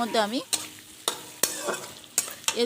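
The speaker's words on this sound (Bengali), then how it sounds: "ভেজে রাখা চিংড়ি মাছগুলো দিয়ে ভালো করে একটু নাড়াচাড়া করছি।" Fried prawns are stirred in a hot pan, with sharp scraping strokes of the spoon over a soft, continuous sizzle, close up and without speech.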